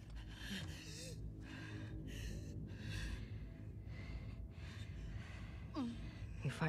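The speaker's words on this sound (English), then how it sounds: "Your breathing's worse." A wounded character in the video game The Last of Us Part II breathes heavily in repeated ragged gasps and sighs, close and quiet, under a low ambient bed with a voice breaking in near the end.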